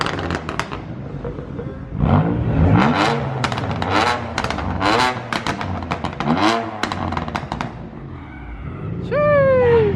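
A BMW 335i with an upgraded N54 engine and F-RB Vargas turbos pulls out, its close, loud engine revving with rough crackles and sharp pops, with a few voices faint underneath.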